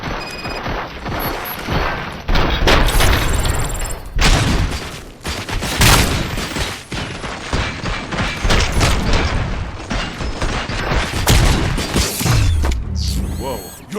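Gunfire rings out in the video game RoboCop Rogue City, a dense loud barrage of shots, impacts and mechanical clatter that runs nearly the whole time, with voices talking amid the fighting.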